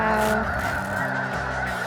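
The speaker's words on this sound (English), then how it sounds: "That's a bunch of geese right there." A large flock of snow geese honks loudly and continuously at a hunt in Arkansas, a dense overlapping chorus of calls with no talking.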